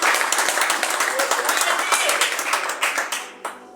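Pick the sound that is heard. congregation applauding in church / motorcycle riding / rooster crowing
congregation applauding in church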